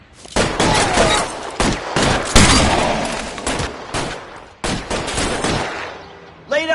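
Rapid gunfire from a shootout in the video game L.A. Noire, with repeated loud broadband bursts and volleys during suppressing fire, separated by brief gaps and ending in a final sharp burst.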